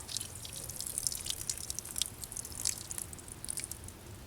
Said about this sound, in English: Let's go ahead and water these others.